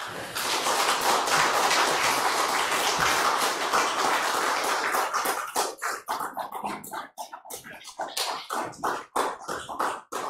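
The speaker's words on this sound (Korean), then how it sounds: "우리 교수님 앞에 나오실 때 큰 박수로 환영해 주시면 좋겠습니다." A church congregation applauds a visiting professor, dense steady clapping that thins into scattered individual claps before fading.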